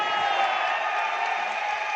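Studio audience at a Hindi motivational talk breaking into sustained applause with cheering and whoops, a dense steady wash of clapping that stays loud and even throughout.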